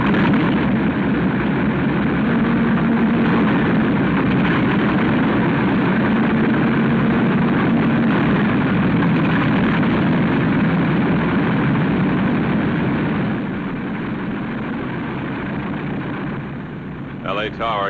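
Airliner engines run steadily before taxi in a radio drama scene, a constant loud roar that eases slightly near the end, with radio voices speaking over it.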